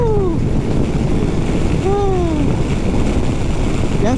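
A 2021 Yamaha Tracer 9 GT motorcycle accelerating, a loud, steady roar with heavy wind noise, with several rising whines of engine revs sweeping up across the run.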